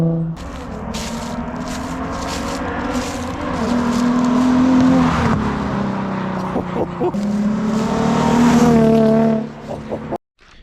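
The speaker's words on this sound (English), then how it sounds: "this exhaust truly is the best way to get that loud single exit VQ noise" A Nissan 350Z VQ V6 engine drones and revs steadily with a loud, raspy single-exit exhaust note, rising and falling over several seconds before cutting off abruptly.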